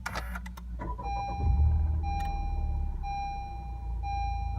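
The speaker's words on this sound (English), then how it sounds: "All right, start the car up." A 2018 Honda Civic Type R starting up, with a brief cranking burst followed by a low, steady idle rumble close by and repeated chime tones from the cabin.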